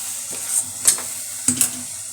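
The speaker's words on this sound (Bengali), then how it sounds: "ময়দা সুজিটাকে ভালো করে মিশিয়ে নিচ্ছি" Flour and semolina for a carrot cake being stirred in a pan with the heat off, a few short scraping strokes with a faint hiss, close and quiet.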